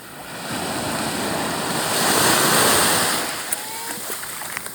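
Ocean waves wash in at a white sand island beach in Dipaculao, a broad rushing surge that swells to a peak midway and then recedes, with some wind buffeting nearby.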